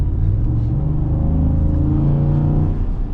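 A 2026 Ford F-150 Tremor V8 engine revving in sport mode, giving a loud, steady, deep rumble close by that holds for the whole stretch with no talking over it.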